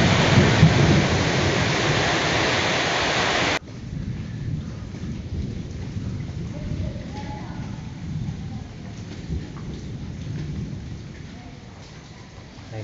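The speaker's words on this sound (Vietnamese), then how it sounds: "ngoài trời đang đổ cơn mưa các bạn, rất là to á" Heavy rain pours down outside during a storm, a dense loud broadband wash that is strongest for the first few seconds, then eases to a steadier, softer downpour with distant rumbling.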